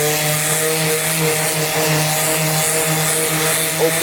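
A palm sander runs over a concrete countertop with a steady, loud, close buzzing hum that holds an even pitch throughout.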